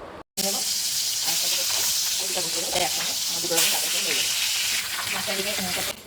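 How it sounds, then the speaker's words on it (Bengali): Salt- and turmeric-rubbed fish fries in a pan, a loud, dense crackling sizzle with bubbling spits that runs steadily after a brief cutoff near the start. "মাছের ঝোলের জন্য মাছটা ভাজতে দিয়ে দিয়েছি"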